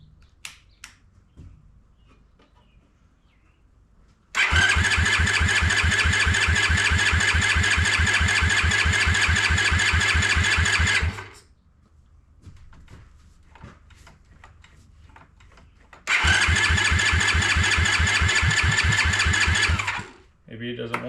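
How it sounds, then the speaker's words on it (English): A Honda ATC 70 fitted with a Piranha 140cc engine cranks over with no spark, giving two long stretches of rapid, even starter chugging close by, separated by quieter pauses with faint handling noises. "I'm gonna go ahead and turn it over a little bit with no spark to let the oil go through the motor a little bit."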